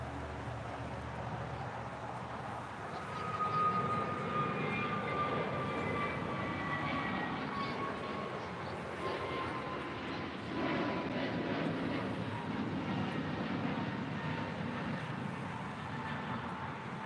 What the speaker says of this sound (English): the Polar Air Cargo 747-8 heading to Seoul